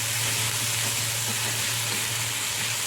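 Onion with grated ginger and garlic frying in a pan while being stirred, a steady dense sizzle with a low hum underneath, continuous and close throughout.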